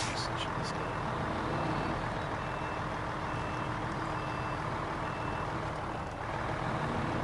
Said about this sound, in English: Glad it's got the reversing sound so the squirrels don't get scared off.